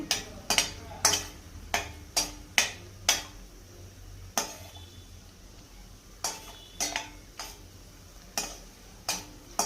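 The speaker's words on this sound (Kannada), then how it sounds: "ಅದಕ್ಕೆ ಲೋ ಫ್ಲೇಮಲ್ಲಿ ಫ್ರೈ ಮಾಡ್ತಾಯಿದ್ದೀನಿ." Semolina dry-roasting on a low flame for rava laddu, stirred with a metal spoon that gives repeated sharp clinks and scrapes against the pan in a loose rhythm, close, over a faint background hiss.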